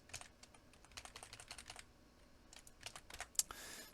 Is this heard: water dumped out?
no